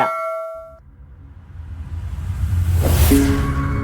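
A notification bell sound effect on a news channel outro: a short bright chime fading out, then a rising whoosh ending in a loud metallic clang, heard alone.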